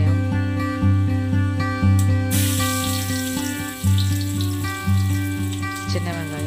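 Onions and fenugreek seeds hit hot sesame oil for a Tamil fish curry, bursting into a crackling sizzle partway through and keeping up over a steady humming drone.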